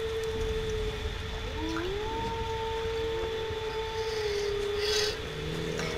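Wolves howling in the video game Far Cry Primal, long sustained tonal howls overlapping and sliding in pitch, several voices at once over a steady rushing ambient bed.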